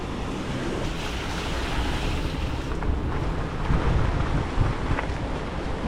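A rain-swollen river after heavy downpours, heard as a steady, loud broadband rush of flowing water that continues unbroken throughout, with some wind buffeting the microphone.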